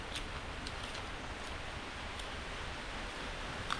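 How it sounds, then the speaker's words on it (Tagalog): Steady rain falls outdoors in a continuous, even hiss with faint scattered drip ticks, with no voices present. "Sana tumigil ang ulan para matapos natin."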